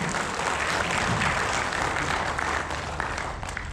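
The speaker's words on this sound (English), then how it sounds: "why don't we all give a good round of applause to Arusri Art Theatre" Audience in a theatre applauds a Tamil dance troupe after their performance, a broad, even wash of many hands clapping, moderately loud and continuous with no voices over it.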